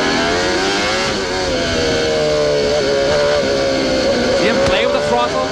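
Onboard engine of a CART race car at the 1994 Toronto street race, rising and falling steadily as the driver blips and feathers the throttle, loud and continuous under commentary.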